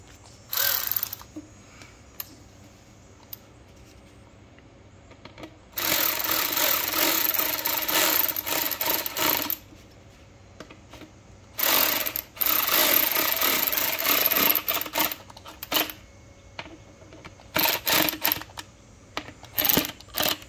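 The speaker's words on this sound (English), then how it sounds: "These are Phillips. I'm gonna go ahead and tighten those down." Phillips screws being tightened down on an S&B cold air intake fitted to a Ford diesel, heard as bursts of scraping, clicking tool noise coming in several separate spells, close and fairly loud, with no talking.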